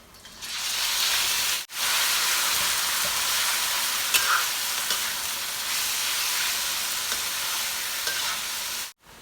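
Marinated pork sizzles loudly in a hot pan with garlic and ginger, a steady bright frying hiss lasting several seconds, with brief breaks and faint stirring clinks.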